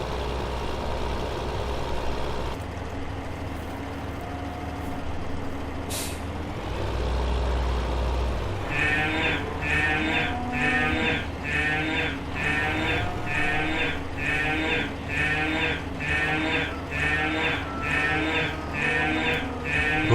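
Cattle in Farming Simulator 2015 on Coldborough Park Farm, lowing in a rhythmic series of calls over a steady vehicle engine hum, with a brief hiss partway through.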